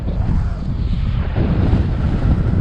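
Steady wind of about 7 or 8 mph gusts across a hillside slope, a continuous low buffeting rumble against the microphone with no voices.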